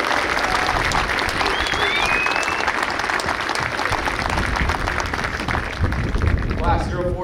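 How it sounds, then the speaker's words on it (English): Sustained loud applause from an audience at an Army Basic Leader Course graduation for Class 04-20, dense clapping with some crowd noise filling the whole stretch before fading slightly at the end. "Please join me in a round of applause for our graduating leaders"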